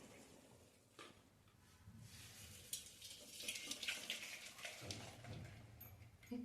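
Hot water being strained off boiled vegetables while making an instant mixed-vegetable pickle, a steady splashing, running wash of liquid that builds through the middle and stays fairly close, with no voices over it.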